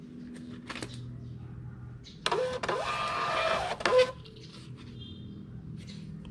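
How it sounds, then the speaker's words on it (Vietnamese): A Bluetooth thermal printer prints a Lazada shipping label in a single buzzing feed of about two seconds, with faint clicks and small handling noises before and after in a quiet room. "Đối với cái máy in Bluetooth đó thì nó ra hơi chậm xíu nha các bạn"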